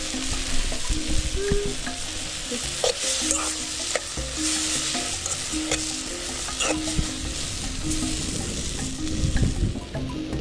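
Eggs frying in a pan over the fire give a steady, fairly loud sizzle, with frequent scraping and clinking from stirring throughout.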